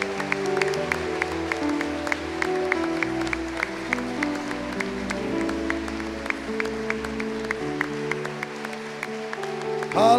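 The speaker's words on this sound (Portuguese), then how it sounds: "Pode aplaudir então com força" A church congregation claps in steady rhythm over sustained keyboard and worship music, the claps sharp and regular throughout.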